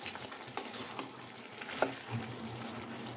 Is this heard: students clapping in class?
no